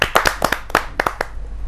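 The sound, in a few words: audience clapping to welcome a poet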